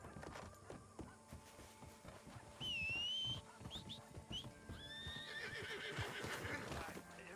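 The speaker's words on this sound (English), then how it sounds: "Oh, God, you fucking dumbass horse." A horse in the video game Red Dead Redemption 2 whinnies in rising, wavering cries alongside hoof clip-clops and other game noises, with brief talk nearby.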